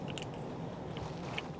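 Someone chews sliced steak cut against the grain, close to the microphone, with soft, steady wet mastication and a few faint crunchy clicks over a low continuous background noise.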